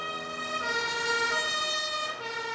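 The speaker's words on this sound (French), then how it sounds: "si vous entendez une ambulance à l'intérieur de chez vous, c'est ça" An ambulance siren heard from inside a home, a steady wailing tone with rich harmonics sweeping slightly in pitch, muffled but clear and continuous with no talking.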